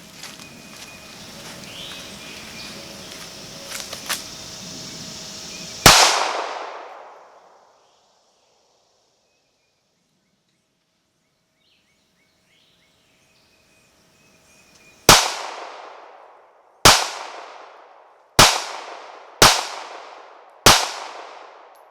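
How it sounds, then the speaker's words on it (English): Ruger LCP II .380 semi-auto pistol firing: one loud, sharp shot after some handling noise, a long pause, then five more cracks about a second and a half apart, each with a short ringing decay. "it locked back when the last round was shot"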